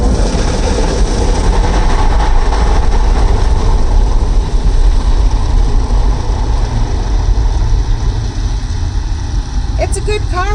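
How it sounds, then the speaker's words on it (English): An automatic car wash runs loudly with a dense, constant roar of machinery and spraying water. It stays close and steady throughout and ends in a few brief squeaky clicks. "It's a good car wash. It's just pretty damn loud."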